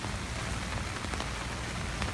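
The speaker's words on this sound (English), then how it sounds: "It is raining pretty heavily." Heavy rain falls on a city street in New Orleans during flooding, a dense, loud, continuous hiss of drops on the surfaces, heard without any voices.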